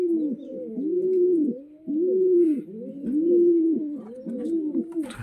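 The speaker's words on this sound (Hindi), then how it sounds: "कबूतर कौन सा कबूतर रहता है इसमें।" Pigeons coo in a breeding box mounted up high, a close, steady run of low rolling coos overlapping one another with brief pauses, and no talking.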